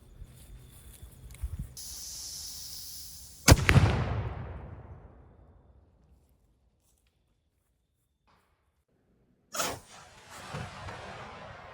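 An air rifle fires an oversized domed diabolo pellet at a pumpkin over a chronograph: a single sharp, loud report with a hissing decay lasting about two seconds, then quiet, and a second abrupt impact-like burst near the end.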